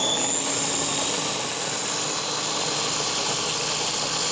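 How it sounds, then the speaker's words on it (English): An electric grinder blending tomato into paste whirs loudly and steadily at close range, a constant high motor whine that stops abruptly at the end, with no voices. "I'm going to grind this tomato and cut it in 2 pieces to put in a grinder"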